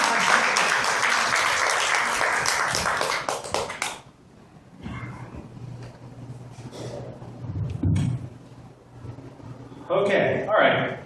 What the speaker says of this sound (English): let's give Nathan a big round of applause.